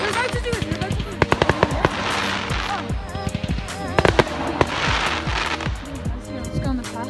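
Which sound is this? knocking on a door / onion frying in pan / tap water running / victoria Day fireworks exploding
victoria Day fireworks exploding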